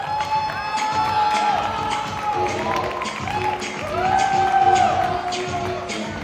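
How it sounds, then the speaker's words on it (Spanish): A live audience at a nightclub variety show claps and cheers for a performer, a steady, dense crowd roar that swells toward the end, with whoops and voices mixed in. "Quiero que reciban con un fuerte aplauso a Jade Mebarak."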